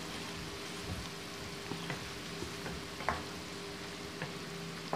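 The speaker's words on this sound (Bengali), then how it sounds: "এবার আমি ডালের সঙ্গে এই তেলটাকে ভালো করে মিশিয়ে দেব, যাতে রসুনগুলো পুরো ডালের মধ্যে মিশে যায়" Garlic-infused oil is stirred into a pot of biuli (urad) lentil dal, making a soft continuous sizzle and bubbling hiss with occasional faint ticks of a utensil scraping the pot.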